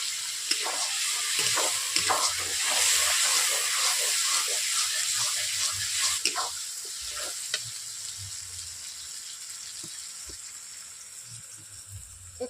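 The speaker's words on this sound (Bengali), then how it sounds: "এরপর সামান্য জল দিয়ে দিচ্ছি। কড়াইতে মশলাগুলো বসে আছে তার জন্য।" A little water hits turmeric and chilli powder spices in a hot wok for a chicken curry, bursting into a loud hissing sizzle that slowly fades, with scattered stirring clicks.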